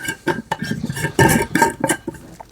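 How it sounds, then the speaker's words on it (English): A lid set onto a cooking pot while making meatloaf, a run of metallic clanks and clatters of pot and lid, close and fairly loud, with no talk. "let's go ahead and put the lid on this guy"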